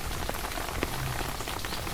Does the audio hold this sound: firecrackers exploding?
no